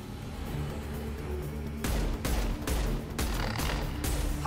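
Gunfire in Mass Effect 2 during a firefight: a low, steady rumble with a run of sharp, mid-distance shots cracking in quick succession partway through.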